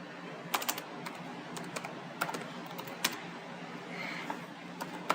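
Computer keyboard typing during web coding: steady, fairly quiet clicks in irregular runs over a low room hiss, with no voices.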